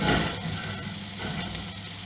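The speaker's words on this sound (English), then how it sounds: "the garlic is frying nicely in my pan." Steady crackling sizzle of garlic frying in hot oil in a pan, a dense continuous hiss with no voices.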